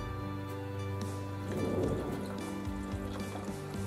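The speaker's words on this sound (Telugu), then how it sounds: "1 మినిట్ అయిన తర్వాత దీంట్లోకి మనం కావలసినంత వాటర్ యాడ్ చేద్దాం." Water is poured into a pressure cooker over sautéed tomatoes and mixed vegetables for pav bhaji, a short splashing gush rising in the middle of the clip over a steady tonal hum.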